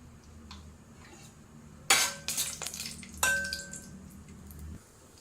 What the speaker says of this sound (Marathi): काजू छान इथे परतायला सुरुवात झाली आहे